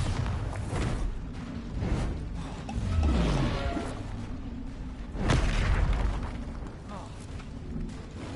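A Bombarda exploding spell cast in the Hogwarts Legacy game, heard as several heavy booms and crashes with rumbling swells, set among combat noise and a voice calling out spell names.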